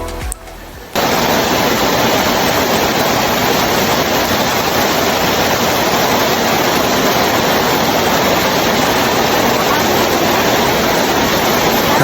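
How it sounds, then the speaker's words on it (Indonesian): Heavy rain pouring down on the road to Krui beach: after a quieter opening second, a loud, dense, unbroken roar of rainfall fills the rest. "Nah bisa kalian lihat ini hujannya deras banget lah"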